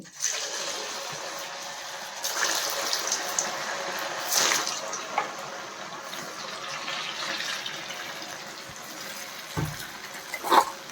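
Steady hissing sizzle of vada deep-frying in hot oil, a continuous close wash of bubbling with a few brief clunks near the end and no talking.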